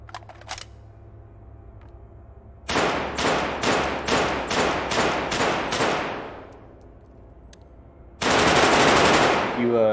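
An EBR rifle in the Dead Matter video game fires at a shooting range, with a quick single report, then a loud string of about nine evenly spaced shots, a pause, and another sharp burst.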